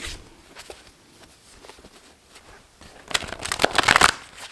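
Tarot cards shuffled by hand: soft riffling and sliding bursts, close and fairly quiet at first, then a louder, denser flurry of shuffling toward the end, with no talking.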